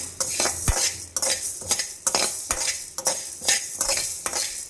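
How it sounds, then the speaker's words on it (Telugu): A spoon stirs fenugreek seeds frying in a pan for fish curry, making repeated sharp metal scrapes and clinks at a steady rhythm over a continuous light sizzle, close and with no talking. "మంచిగా వేపుకోవాలి కలుపుకుంటూనే ఉండాలి"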